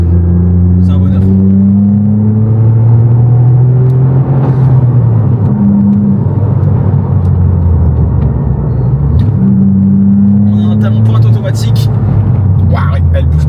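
Toyota GR Yaris engine droning steadily and loudly close by, its tone rising and falling with revs as the sound reverberates off nearby walls.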